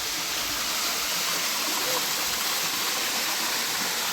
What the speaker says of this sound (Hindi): उसके नीचे कितना खूबसूरत सा झरना है